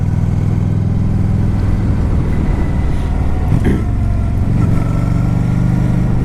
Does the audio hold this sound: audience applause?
no